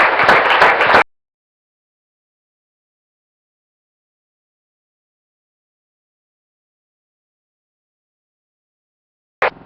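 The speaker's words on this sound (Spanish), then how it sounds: "Démosle un aplauso al Señor" Congregation applause in church sounds as a loud burst of clapping lasting about a second, then cuts to silence, with a brief return of sound at the very end.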